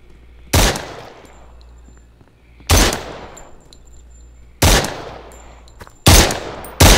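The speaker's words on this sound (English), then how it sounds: "let's go test this explosive ammo out in these fucks" Explosive-ammo gunfire in the VR shooter SURV1V3, four loud separate blasts each trailing off into a rumbling decay, spaced a second or two apart with the last two close together, no talk.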